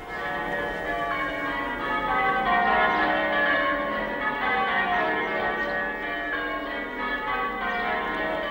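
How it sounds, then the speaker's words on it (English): Church bells peal continuously during a bell practice session, a dense, steady wash of overlapping ringing tones at even loudness throughout, with no voices. "the rhyming and the chiming of the bells, bells, bells"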